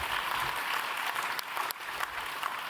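A conference audience claps steadily as closing remarks end, in a full, even round of applause with a few sharper claps standing out.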